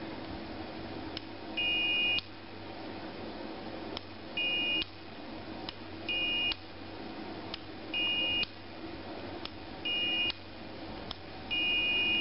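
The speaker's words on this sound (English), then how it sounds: "So when the circuit works, the multimeter gives a beep sound." A multimeter in continuity mode beeps six times while testing a circuit, each a steady high tone lasting about half a second, spaced roughly two seconds apart over a low background hum.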